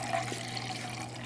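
Deionized water runs steadily into a hydrometer cylinder holding soil, a continuous close-up pouring and splashing wash with a low steady hum underneath, no one talking.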